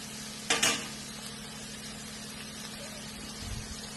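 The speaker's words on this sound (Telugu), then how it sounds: "ఆనియన్స్ బాగా మగ్గబెట్టాలి" Onions for mutton curry cooking gently in a pan, a quiet steady sizzle with a sharp spatula scrape near the start and a soft stir later.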